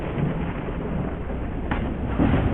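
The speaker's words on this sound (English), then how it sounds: "Now it's fucking overcast and raining as it's supposed to." Rain and thunder in the Deadhaus Sonata video game: a dense, loud wash of rain with a continuous low rumble of thunder swelling slightly toward the end, no voices.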